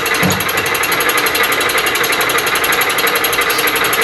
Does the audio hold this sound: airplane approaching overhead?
no